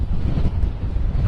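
Strong wind from a high wind storm buffets the microphone in a loud, steady, low rumbling roar with no breaks and no voices.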